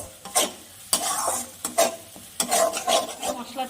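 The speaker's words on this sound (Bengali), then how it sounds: "মশলাটার থেকে আমার তেল ছেড়ে গেছে, এবার এখানে আমি সর্ষে পোস্ত বাটাটা দিয়ে দিচ্ছি।" A mustard and poppy seed paste fries in spiced oil, with a soft sizzle under repeated scraping strokes of a spoon stirring the pan.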